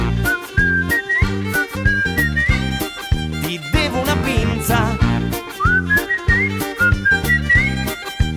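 Whistled melody in a song, bright and prominent over a bouncy full-band backing, running in short phrases between sung lines.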